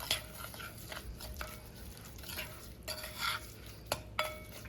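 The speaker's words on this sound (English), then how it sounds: "I'm just going to mix this seasoning up to get ready to put it on my" A spoon scrapes and clinks in a bowl, mixing a seasoning paste for pernil, with soft irregular stirring and a few sharper taps near the end.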